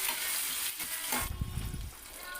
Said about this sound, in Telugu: దీంట్లో ఎండుమిర్చి వెల్లుల్లి ఉల్లిపాయ కూడా వేసుకొని మంచిగా ఫ్రై చేసుకోవాలి